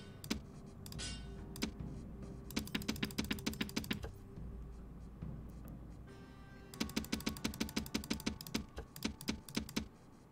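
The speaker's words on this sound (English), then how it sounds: "There's so much clicking, it's so fucking annoying." Rapid bursts of clicking from a mouse and keyboard during a multiplayer match of Rome: Remastered, coming in dense clustered runs with short pauses between them, close and fairly quiet.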